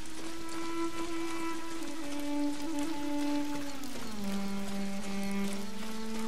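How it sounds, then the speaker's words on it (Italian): Steady rain falling in the video game Ghost of Tsushima, a constant close hiss of drops on surfaces under sustained, slowly shifting musical tones. "Piove pure, cavolo."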